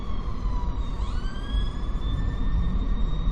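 A police siren wails continuously, its pitch sweeping upward partway through, over a constant low rumble of street noise.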